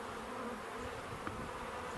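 A soft, continuous buzz of honeybees swarms around an open beehive, a steady low drone heard close with no talking.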